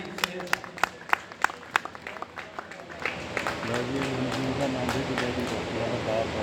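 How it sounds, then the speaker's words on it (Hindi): An audience at an agricultural gathering on papaya farming in Punjab claps to welcome a guest, starting with scattered distinct claps and swelling into steady applause while a voice talks over it. "तालियां बजाकर इस्तकबाल करेंगे।"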